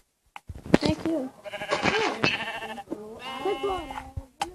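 Sheep bleat repeatedly and close by in a farm setting, several wavering calls overlapping with people talking throughout.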